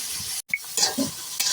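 Six tablespoons of ginger garlic paste hitting a hot pan for chicken kosha, giving a bright steady sizzle with a brief break and scraping stirs, close and fairly loud, no voices.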